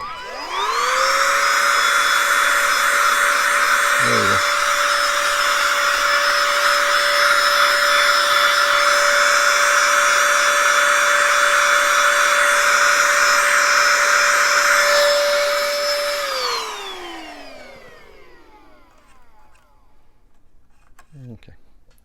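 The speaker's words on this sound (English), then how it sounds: "I'm going to use the hand vacuum." A hand vacuum used while repairing a MacBook Pro whines steadily and loudly for about sixteen seconds, then spins down and falls silent, with a brief voice speaking near the end.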